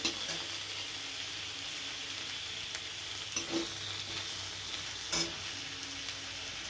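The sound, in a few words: frying oil, black cumin, ginger, dry chili, tomato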